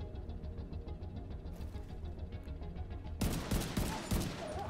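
Gunfire in The Division 2 starts as a faint, distant rattle of shots under low ambient rumble, then turns into a loud, close burst of rapid automatic fire and impacts.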